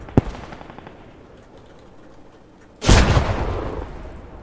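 Gunfire in the World War II shooter Post Scriptum, with a sharp single shot at the start, then a quiet stretch before a loud, close blast with a rolling tail, and no talk.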